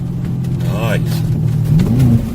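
BMW 650i engine revving and rumbling at close range, with a rising throttle blip near the end under steady low engine drone; a voice speaks briefly over it.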